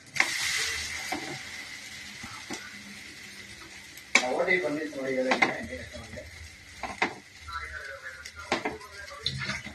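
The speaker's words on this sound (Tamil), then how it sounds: "இது ஒரு டைப்பு தோசை. நம்ம திருப்பி போட்டுக்கலாம்." A dosa sizzles on a hot pan as it is turned, with a soft hiss broken by clinks and scraping from a spatula against the metal.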